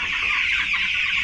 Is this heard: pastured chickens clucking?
yes